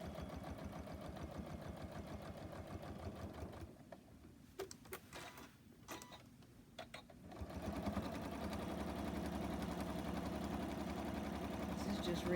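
A sewing machine runs a steady, fast mechanical whir as it stitches a silicone trivet, pausing briefly in the middle before resuming its continuous hum, with a voice talking quietly over parts of it.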